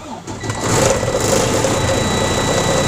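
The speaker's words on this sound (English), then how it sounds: "Then going to start the truck" A semi truck's diesel engine cranks briefly and catches, then settles into a steady, loud idle rumble close by, with no speech.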